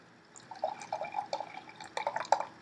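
Barrel-aged stout beer poured into a glass, a close run of soft, bubbly glugs and liquid splashes that grow busier and louder toward the end.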